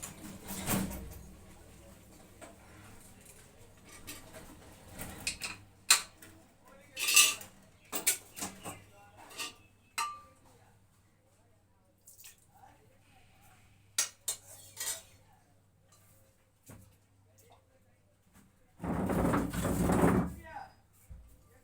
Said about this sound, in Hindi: अभी ये बर्तन मैंने धोकर आया हूँ, धोकर लाए हैं बर्तन